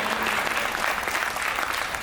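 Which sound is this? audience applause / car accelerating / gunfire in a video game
audience applause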